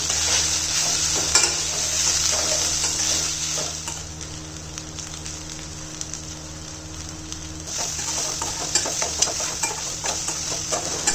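Spatula stirring chili powder, turmeric, coriander and salt into sizzling okra in a pan, a steady close frying hiss with soft scraping strokes throughout.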